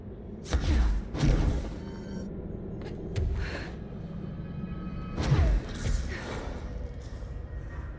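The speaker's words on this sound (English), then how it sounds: "I think I just triggered a bunch of explosions." Several bursts of explosions set off in the video game Control, with heavy booming thuds and crackling debris hitting at roughly half-second, one-second and five-second marks over a steady low rumble.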